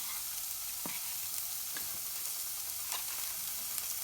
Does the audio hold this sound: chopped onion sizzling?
yes